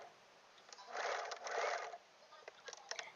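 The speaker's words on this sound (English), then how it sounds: "So here I am stitching it." A sewing machine running a collar placket, two short bursts of soft, quiet whirring stitching separated by a pause, followed by a few light mechanical clicks.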